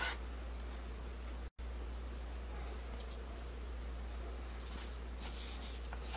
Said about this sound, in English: I'm cutting my jalapenos like this so I won't have to fight with any seeds